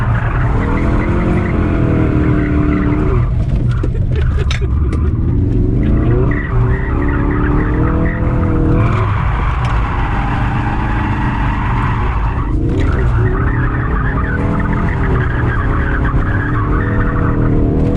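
A Ford Focus RS drifting sideways, its tires skidding and squealing almost without a break over a steady engine drone, close and loud, with short shifts in pitch as it slides.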